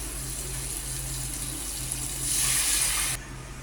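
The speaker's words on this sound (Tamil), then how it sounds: "அரை கப் புளி தண்ணி ஊற்றிக்கலாம்" Tamarind water poured from a half cup into a pot of rasam, a steady liquid pour that swells briefly and then stops abruptly near the end, close and without talk.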